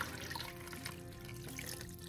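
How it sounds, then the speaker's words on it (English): Water poured into a pot of seasoned beans on the stove, a steady splashing trickle close by that runs continuously for a couple of seconds without speech. "And then I'm going to add in some water."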